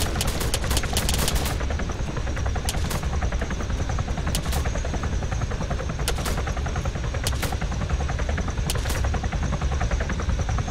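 Dense gunfire rattles continuously in the video game Arma 3, with sharp bursts of automatic shots cracking over a constant loud rumble during a firefight inside a bank.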